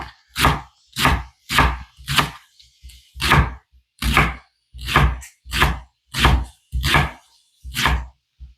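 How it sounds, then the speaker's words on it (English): Knife chopping leeks on a cutting board, about a dozen steady, evenly spaced crisp thuds close up with brief silences between strokes. "I'm going to chop it at least"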